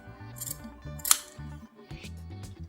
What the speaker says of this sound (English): and cut the fabric.